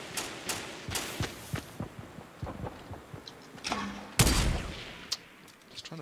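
Rapid bursts of gunfire in the video game Fortnite, sharp cracks repeating in quick irregular volleys with one louder close shot near the end, alone without talk.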